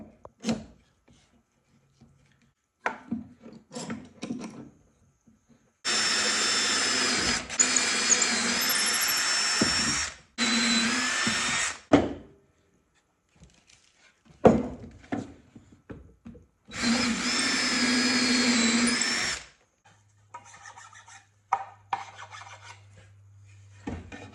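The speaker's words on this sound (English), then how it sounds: "I think I'm just going to drill them first and see how this goes." Two long bursts of loud, steady grinding from a power drill boring holes in wood, separated by short knocks and clatter, with quieter handling noises around them.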